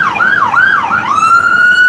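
A police car or ambulance siren close and loud, its wailing tone swooping up and down a few times before settling into a steady high note, with no voices over it.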